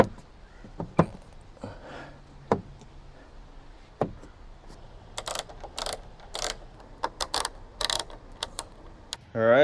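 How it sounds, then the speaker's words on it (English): Screws being driven while PRL wing risers are installed on a Honda FL5, heard as scattered sharp clicks and short ratcheting bursts, close and fairly quiet, with a dense cluster of quick ticks in the second half. "Then we put our screws in."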